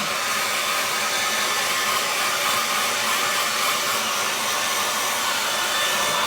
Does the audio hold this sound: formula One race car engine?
no